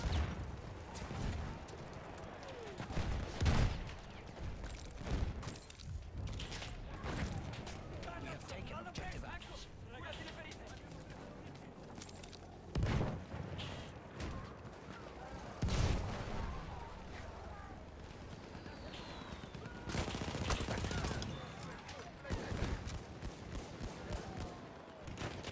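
Battlefield 1 gunfire echoes through a fort battle, with scattered bursts of machine gun fire and heavier explosive booms at irregular intervals over a busy, noisy background.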